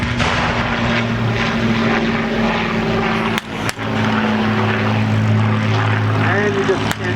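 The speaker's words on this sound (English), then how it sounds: "our de Havilland Mosquito forming up with our Hawker Hurricane." A de Havilland Mosquito with twin Rolls-Royce Merlin engines forms up with a Hawker Hurricane at a WWII airshow in Virginia Beach, a steady loud propeller-engine drone throughout with someone talking over it.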